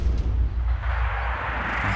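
A single gunshot in Sniper Ghost Warrior 2, a deep heavy boom that rolls out into a low rumbling tail, standing alone without talk.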